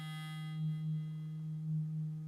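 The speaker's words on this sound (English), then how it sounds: "a sine wave" A steady pure sine tone from a modular synthesizer holds a single low pitch, smooth and unbroken, with a slight pulsing swell in level; no voices.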